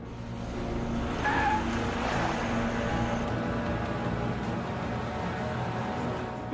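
Car driving past with a steady engine drone and tyre noise, rising slightly as it goes by and then holding at an even level, with no voices.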